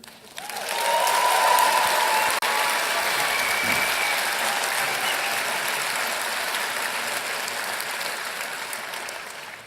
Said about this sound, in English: while the applause sounds so beautiful